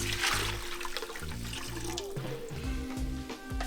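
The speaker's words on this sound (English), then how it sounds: "So we're gonna put in our liquids next." Liquids pour into a pot of cooked onions and garlic for a Zuppa Toscana soup, a continuous close splashing and gurgling stream with no talking.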